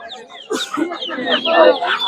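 Japanese bantam chicken clucking at a busy weekly bird market in Fatullah, several short clucks and squawks close by, with people talking and market chatter throughout.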